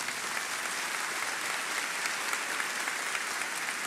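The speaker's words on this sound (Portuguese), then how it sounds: "Uma salva de palmas para esses queridos." A church congregation applauds steadily, with a dense, even wash of many hands clapping at a moderate distance that holds from start to finish.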